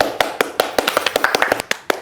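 Hands clap in a Hindi comedy scene: about a dozen sharp, close claps in a quick, fairly even rhythm, crisp and loud with brief gaps between them and no voices.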